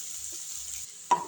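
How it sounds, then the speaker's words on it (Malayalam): Onion, ginger and garlic sauté together in a pan with a steady, quiet sizzle, then a brief louder clatter near the end as they are stirred. "ഇനി അതിലേക്ക് ഉള്ളിയും ഇഞ്ചിയും വെളുത്തുള്ളിയൊക്കെ ഒന്നിച്ചിടുക."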